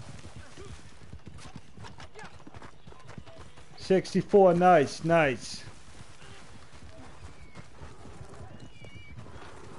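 Horse hooves clip-clop steadily through Red Dead Online's New Austin desert, with a loud whinny breaking out midway; someone talks over the hoofbeats.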